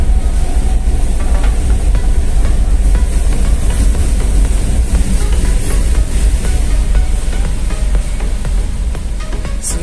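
LRT light rail train passing on the elevated track overhead in Manila, a loud continuous rumble and rail roar lasting throughout, close by with street traffic noise blended in.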